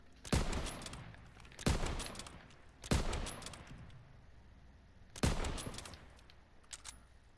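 Four separate loud gunshots in a one-on-one video game duel, each a sharp crack with a decaying tail, spaced unevenly over several seconds at a moderate level.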